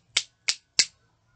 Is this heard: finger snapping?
yes